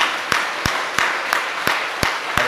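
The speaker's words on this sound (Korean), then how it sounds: "우리 같이 뜨거운 박수로 환영합니다" Applause in a church service welcoming returning members. Sharp, evenly spaced claps ring out about three per second, close and fairly loud over a steady crowd clapping bed.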